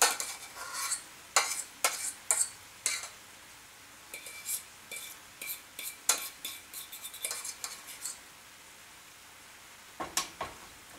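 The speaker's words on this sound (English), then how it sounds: "we now take and mix our goo together here. We fold the potatoes in there good" Instant potato goo being stirred and folded with a utensil, a series of soft wet scrapes and clinks in irregular bursts, close and fairly quiet, with a pause before a final few strokes.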